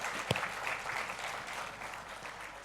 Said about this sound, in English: let's just give them a round of applause for everything here